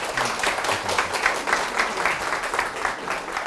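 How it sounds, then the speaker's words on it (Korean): Hearty audience applause at a tourism-interpreter guide interview lecture in Korea, a dense steady roar of many hands clapping together, sustained evenly throughout without speech. "뜨거운 박수 부탁드릴게요."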